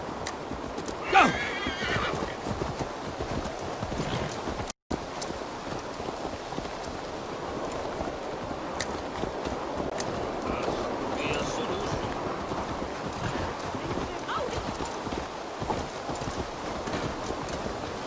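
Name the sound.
horse galloping in video game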